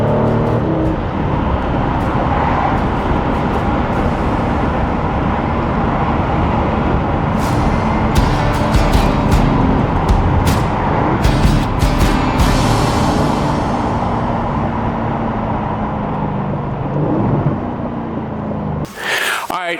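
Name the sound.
Aston Martin DB11 twin-turbo V8 car driving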